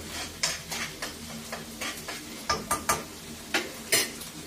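Onion and green chillies land in a hot pan with sharp crackles. Repeated spatula scrapes and stirring clicks sit over a low sizzle at close range, and no one speaks.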